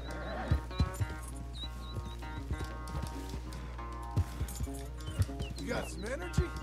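Horse hooves clopping in the Red Dead Redemption 2 video game, near a ranch, as a steady series of soft thuds under game music and someone talking.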